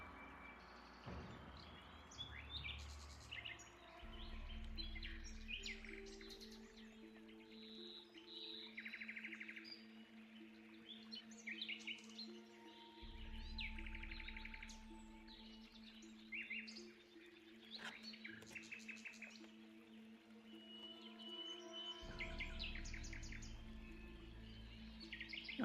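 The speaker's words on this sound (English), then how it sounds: "The birds make this game a little peaceful" Birds chirp and tweet in a video game soundscape, scattered calls repeating throughout over steady tonal background music and game ambience, moderately quiet with no talk.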